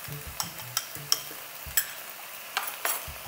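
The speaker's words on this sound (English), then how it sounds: "beat the eggs like this" Eggs beaten in a bowl for kimchi fried rice, a quick series of sharp clinks and taps from a utensil against the bowl, close and fairly loud with short pauses between bursts, no talking.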